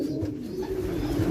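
Racing pigeons coo softly and close by in low, continuous rolling murmurs, held in preparation before being loaded up in Madrid, Spain.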